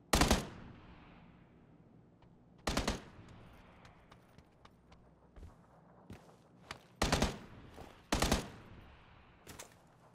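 Gunfire faked by a decoy grenade in a video game: about five short, loud bursts of rapid shots, spaced unevenly over a low, steady background ambience.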